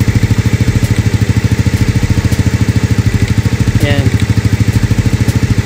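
An XRM/Wave-type motorcycle engine idles after carburetor cleaning and tuning, making a loud, close, steady putter with fast regular pulses and a brief spoken word over it.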